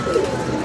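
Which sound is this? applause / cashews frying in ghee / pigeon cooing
pigeon cooing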